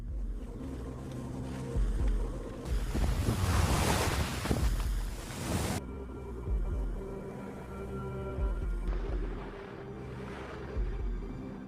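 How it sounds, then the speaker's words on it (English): Strong wind in a snowy mountain storm roars and gusts in swelling, buffeting waves, loudest in a long blast midway, beneath a soft musical background. "he realizes that the wind has picked up"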